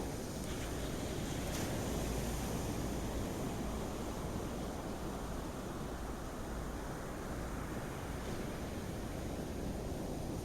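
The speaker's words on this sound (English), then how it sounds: "Noticing the sounds of the waves." Ocean waves breaking on a beach at sunrise, a constant broadband wash of surf mixed with wind noise on the microphone, steady and unbroken for about ten seconds with no talk.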